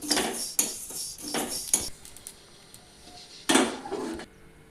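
Shahjeera (black cumin) dry-roasting in a pan for Maharashtrian kala masala, with a handful of sharp, bright scraping and clinking strokes of a utensil against the pan between quieter stretches.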